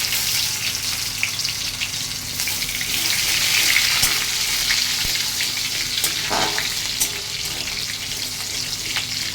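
Four crushed garlic cloves frying in oil, a steady moderate sizzle with a few faint stirring taps, no talking.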